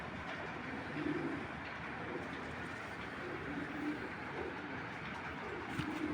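Racing pigeons coo softly in a loft, with repeated low cooing phrases under a steady broad background noise.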